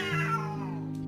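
A neighbor's cat gives a single short, clear meow close by, with a rising then falling tone that trails off within about a second.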